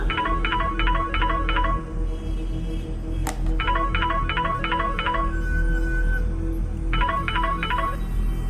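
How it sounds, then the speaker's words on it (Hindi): A mobile phone rings in three repeated bursts of rapid electronic trill tones, separated by short gaps, steady and fairly close over a low background hum, with no talk. "तभी अचानक ही नक्श का मोबाइल बज उठा।"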